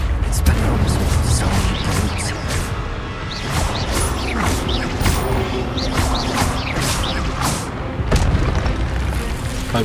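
Spell-casting effects from the video game Hogwarts Legacy, including Accio and Expelliarmus: a busy stream of whooshing magical bursts, booms and creaking mechanical clatter with sharp repeated zaps throughout, with someone talking over it.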